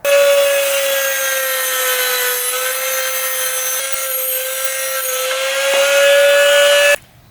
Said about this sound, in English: The first step I'm going to do is Dremel the head off of this bolt.